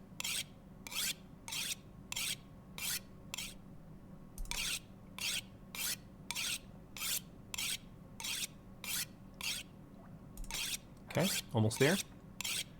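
An axe is sharpened in the video game The Long Dark, with repeated regular rasping file strokes in a steady rhythm, a brief pause midway, and a voice speaking briefly near the end.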